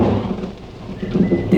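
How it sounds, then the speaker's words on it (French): Thunderstorm in dark woods with heavy rain, a steady wash of rainfall under low rumbling thunder that swells louder toward the end, with no voices. "« Oh, c'est l'orage !» explique Hibou alors que la pluie se met à redoubler."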